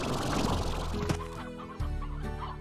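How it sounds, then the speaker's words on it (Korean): Chickens cluck and squawk repeatedly near a coop in Slime Rancher, a busy, fairly close flurry of fowl calls with no talk. "여기 뭐 닭우리가 있나?"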